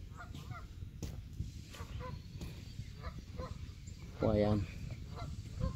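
Geese honk near a fishing pier in Easton, Maryland, a loud burst of nearby honking standing out above steady outdoor background and scattered calls, with someone speaking at times.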